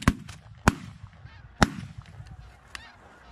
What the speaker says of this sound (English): Kill these ducks, guys.